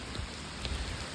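Steady pouring rain falls over a lake where carp anglers are fishing, a dense continuous hiss with a few soft low thumps of drops and no talk.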